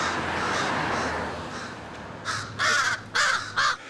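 Several loud, close crow caws come in a quick irregular run near the end, a young crow and its parents calling over a steady outdoor background hum.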